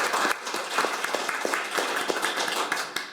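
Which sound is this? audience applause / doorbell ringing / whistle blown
audience applause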